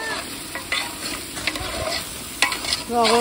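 Chicken popti ingredients being stirred and mixed up close, with scraping, clattering strokes in uneven bursts over a soft sizzle, and a brief tonal sound near the end.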